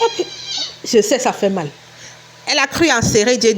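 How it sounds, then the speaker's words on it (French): A house cat meows loudly in short drawn-out cries close to the microphone, interleaved with someone speaking French. "Désolée, c'est le chat de mon mari."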